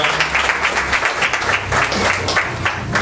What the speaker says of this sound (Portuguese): Aplausos ao Senhor Jesus.